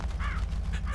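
Crows caw in a few harsh, close calls over a steady low engine rumble as birds scatter in the Spintires: Mudrunner off-road truck game.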